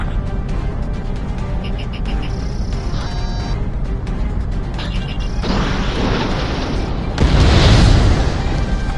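Bombers are destroyed in the combat flight game Ace Combat 7 Skies Unknown: a roaring jet drone carries chirping cockpit tones, then heavy booming blasts swell in the final seconds.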